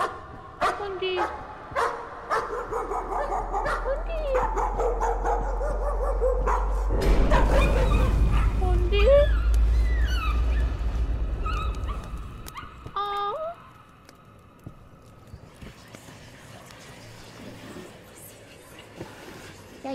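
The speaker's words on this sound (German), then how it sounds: "Hundi!" A dog whimpers, yips and barks in the horror video game Layers of Fear, with a deep rumbling drone and game effects underneath and someone talking over it before it fades into quieter ambience.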